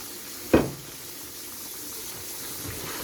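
Pork afritada with potatoes and carrots is stirred in a pot, opening with one sharp clack of a utensil against the pot, followed by a steady low simmering sizzle.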